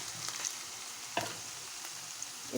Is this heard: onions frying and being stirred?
yes